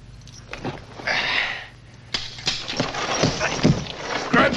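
A horse's hooves clop and shuffle on the ground in a 1972 Western, with irregular steps and movement and some talk nearby.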